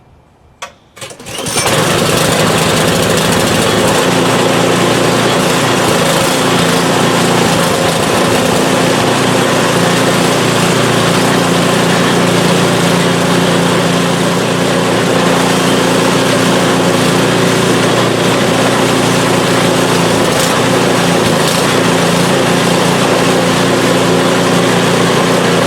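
PowerSmart 24-inch snowblower engine catching after a few faint sputters, then running loud and steady at close range with a constant buzzing drone to the end.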